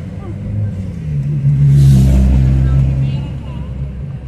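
Car driving with a low engine rumble that swells to a peak midway and then settles, heard close from inside the vehicle with no speech.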